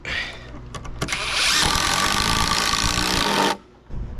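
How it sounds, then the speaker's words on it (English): A power driver sinks a screw into the wood of a tent platform under repair, a steady whirring grind lasting a couple of seconds after a few short starts, close and loud, then stopping abruptly. "preset this screw"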